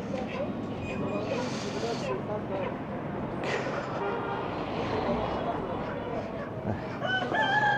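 Roosters crow and chickens cluck amid the bustle of a Kabul butchers' lane where trucks deliver poultry, the birds mixing with street noise and nearby talk.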